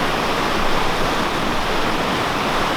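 Whitewater rapids pour over a small drop on a Cape Breton Island river, a loud, steady broadband roar of rushing water that holds constant throughout, close by with no voices.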